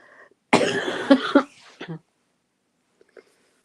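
A person gives one loud, harsh cough fit that lasts about a second, with a couple of quick bursts and a short tail. Quiet stretches and a faint breath or murmur come before and after.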